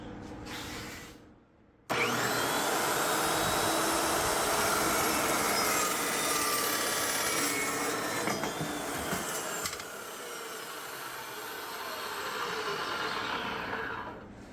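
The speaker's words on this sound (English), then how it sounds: "So let's go to the saw and do that." A metal-cutting saw slices through steel tube for a custom tubular subframe on a 1990s Audi Coupe Quattro, a steady loud grinding whine running about eight seconds after a sharp start, then easing off as the cut finishes.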